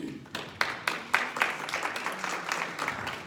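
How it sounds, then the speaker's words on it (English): Applause from a presentation audience after a talk on mental health and happiness, a crowd clapping steadily with sharp individual claps standing out near and in front, sustained for a few seconds. "Give another round of applause for Sonal"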